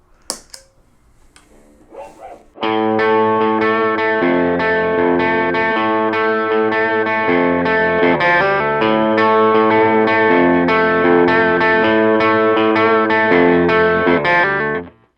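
After a few faint taps and noises, an electric guitar through a Mojo Hand FX Kensrue Rook overdrive pedal kicks in loudly, playing a continuous riff of gritty chords that rings out at the end.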